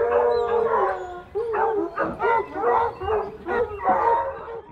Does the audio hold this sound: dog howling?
yes